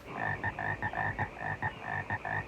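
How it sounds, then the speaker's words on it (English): Dense chorus of frogs from the 1972 film Frogs, croaking in steady pulsing bursts that overlap continuously, loud and close with no talk. "all in service of ending this non-stop soundbed of croaking"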